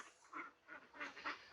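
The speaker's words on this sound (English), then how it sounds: "Ducks." Ducks quack outdoors in a park during drought conditions, a few faint, distant calls in separate bursts over low background noise.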